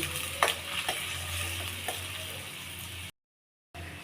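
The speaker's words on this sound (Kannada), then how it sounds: "ಇವಾಗ ಎಣ್ಣೆ ಕಾದೈತ್ರಿ ಇದಕ್ಕೆ ನಾನು ಸಣ್ಣಗೆ ಹೆಚ್ಚಿದ ಈರುಳ್ಳಿ ರೀ ಈರುಳ್ಳಿನ ಚೆಂದಾಗಿ ಫ್ರೈ ಮಾಡ್ಕೋರಿ" Finely chopped onions fry in hot oil for a North Karnataka brinjal dish, a steady close sizzle with occasional stirring knocks, cutting out briefly to silence before the frying resumes.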